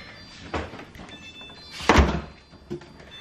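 A refrigerator door thunks shut with a firm, fairly close impact, followed by a softer knock about a second later; no one speaks.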